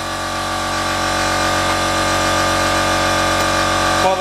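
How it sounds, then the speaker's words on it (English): An air compressor runs steadily in a workshop, a loud constant mechanical drone with a tonal hum that holds even throughout, with a slight shift near the end. "you'll have to excuse the compressor for a minute"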